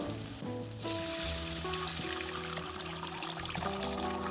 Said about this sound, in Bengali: এখন আমি এর মধ্যে দিয়ে দেব পরিমাণ মতো জল